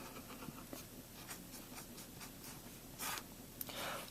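Pen scratching across paper while a graph is sketched by hand, a series of quiet, dry strokes with short pauses between, ending in a couple of longer scribbles against a faint background hum.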